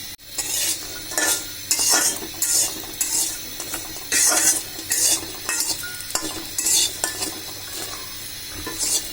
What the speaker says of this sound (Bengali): এখন এই কড়াইতে আমি এটা তেল ছাড়া ভেজে নিব।